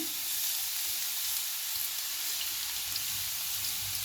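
Garlic sizzling in hot oil in a pan for Chinese fried rice, a soft steady crackling hiss throughout, close but fairly quiet, with no voices.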